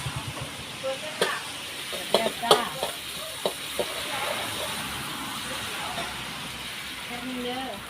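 Chilies go into a hot pan for a Thai basil stir-fry, bringing a steady close sizzle with sharp spatula scrapes and clanks against the pan, while a voice talks briefly near the end.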